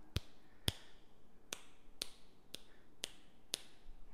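Seven crisp finger snaps sound one at a time at an even, unhurried pace close to a Saramonic SR-Q2M directional microphone, each a sharp dry click against quiet room noise.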